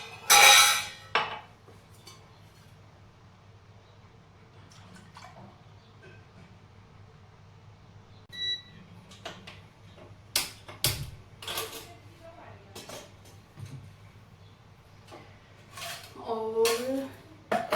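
Washed dishes, pots and utensils clink and clatter in a home kitchen as they are picked up and put away, with scattered sharp metallic knocks and clinks spread over a quiet background, several clustered bursts near the end.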